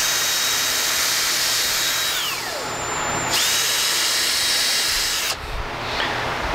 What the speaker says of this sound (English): We're actually gonna just drill those through.